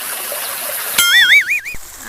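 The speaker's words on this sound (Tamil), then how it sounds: "எம்முட்டு தண்ணி போகுது" Water pouring over a village waterfall makes a steady broadband rush for about a second, then a voice talks over the continuing flow.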